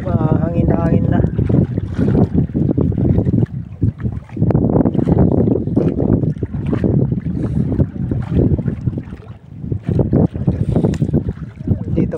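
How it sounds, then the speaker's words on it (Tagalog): Strong wind roars steadily over an open sea boat, with water slapping against the hull and voices talking over the constant gusty rush. "Hangin na hangin na."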